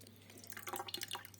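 Soaked turnips drained of salted water, a short patter of trickling and dripping liquid running off at close range for a moment.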